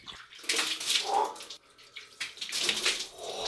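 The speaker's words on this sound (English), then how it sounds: "This is the shower situation." Water runs from a cold shower in bursts that splash and gush loudly, pausing briefly in the middle before pouring again, close by.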